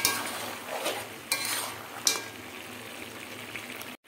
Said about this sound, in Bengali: এরপর দেবো লঙ্কার গুঁড়ো, ঝাল লঙ্কার গুঁড়ো, দিয়ে ভালো করে নাড়িয়ে দেবো।